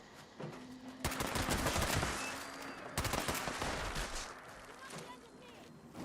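Bursts of rapid gunfire in Fallout 76 come in two loud volleys of close shots, with quieter stretches and faint background game sounds between them.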